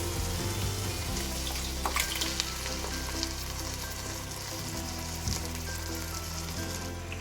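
Masala sizzles loudly in a pan after tomato puree is added for mixed vegetables. The frying is steady and close, with faint stirring clicks now and then.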